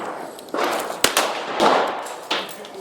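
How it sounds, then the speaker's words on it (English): Handloaded 5.7x28 rounds are fired over a chronograph outdoors, giving four sharp, loud shots at uneven intervals, each with a ringing tail and no voices. "So just go ahead and shoot."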